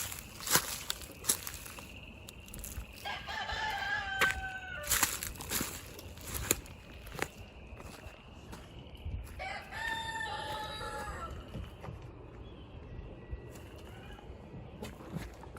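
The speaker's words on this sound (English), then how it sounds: "Leave my chickens alone." Roosters crow twice at moderate distance among clucking chickens, with scattered footsteps, rustling and handling knocks in a farmyard.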